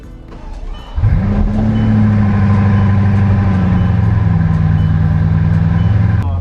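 A Bugatti engine starts up and revs, a loud close-up roar that swells after a quiet moment and then holds a deep, steady growl with a slight shift in pitch near the end.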